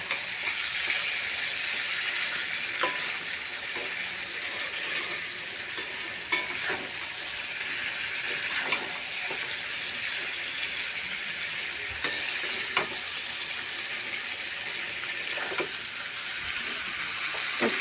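Chicken pieces fry in oil with spices in a pan, giving a steady close sizzle with occasional stirring scrapes and clicks, with no talk over it.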